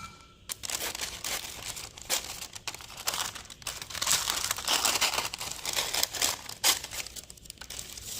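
Paper crinkles and rustles close by as a collage piece is cut out, with irregular crisp crackles and a few sharper snips, moderately quiet and without talk.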